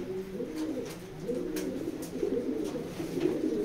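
A pair of raced pigeons, cock and hen, coo in soft, repeated guttural rolls close at hand, the murmuring continuous and unaccompanied by speech.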